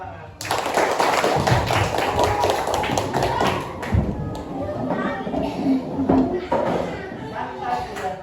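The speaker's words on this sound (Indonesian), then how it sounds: "Oke, tepuk tangan." A burst of many small hands clapping and tapping in a classroom, dense and uneven, with children's voices mixed in, on the teacher's cue.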